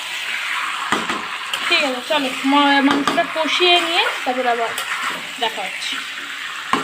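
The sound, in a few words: sautéing chicken in spice paste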